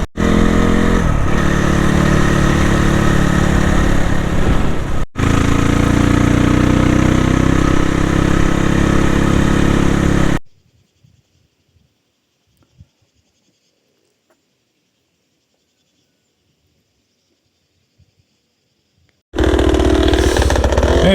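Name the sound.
dirt bike motorcycle engines idling and revving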